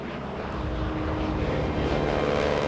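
Vintage piston-engine aircraft passing overhead, a steady broad engine drone that holds loud and continuous throughout with no voices.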